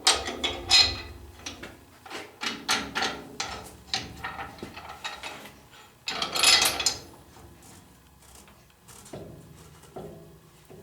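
Metal clamping plate being fitted and secured over a bowling ball on a drill press in a pro shop: a series of close clanks, ratcheting clicks and scrapes, then quieter knocks near the end.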